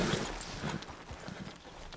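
Horse hooves clip-clop at a steady walking rhythm in Red Dead Redemption 2, moderately loud over a broad outdoor game ambience.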